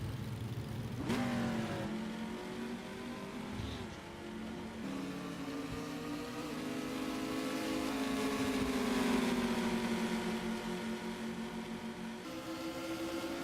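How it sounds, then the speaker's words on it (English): Deep, rumbling LS V8 engines of Trans Am TA2 race cars idle and rev nearby in the pits, their low growl rising and falling steadily with no talk. "I hear lots of rumbly LS engines in the pits."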